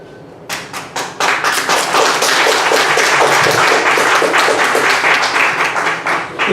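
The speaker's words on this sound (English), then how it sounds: "If everybody doesn't mind, I don't mind clapping to show your support" An audience at a community candidates' meeting breaks into clapping, starting with a few scattered claps that quickly swell into steady, dense applause filling the room.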